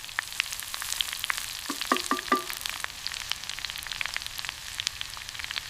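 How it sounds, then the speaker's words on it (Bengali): Onions crackle and sizzle in hot oil in a village kitchen pan, with scattered sharp pops and spits over a low frying hiss, close and fairly quiet. "পেঁয়াজটা আগে ভালো করে ভাজতে হবে।"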